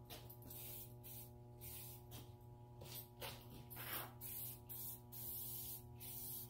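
Spray gun laying a light second coat of paint in a workshop hisses in repeated passes, bursts rising and falling over a constant electrical hum, with no voices.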